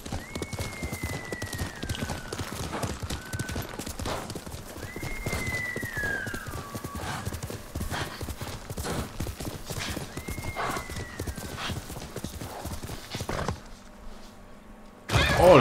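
Horse hooves clip-clop at a steady gallop in the Ghost of Tsushima video game, with three rising-and-falling neighs spaced across the run, then a sudden thud and near silence as the gallop stops abruptly.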